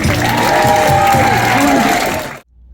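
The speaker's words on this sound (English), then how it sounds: "I think Drew deserves a big round of applause." An audience at a workplace magic show gives a short burst of applause with some cheering, loud and close, ending abruptly after a couple of seconds.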